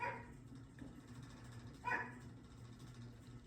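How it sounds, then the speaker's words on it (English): A dog barks indoors in a kitchen, a couple of short sharp yelps near the start and another brief bark around two seconds in, fairly close over a steady background hum. "the dog wants to start barking"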